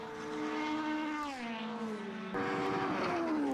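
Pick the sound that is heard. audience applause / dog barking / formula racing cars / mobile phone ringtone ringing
formula racing cars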